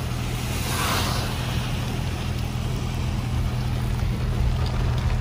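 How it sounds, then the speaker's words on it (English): Heavy rain drums steadily on a car driving Highway 18 near Big Bear, California, a dense unbroken wash of noise over a low engine and road rumble, loud and constant throughout with no voices. "Oh my gosh, it's pouring inside the car."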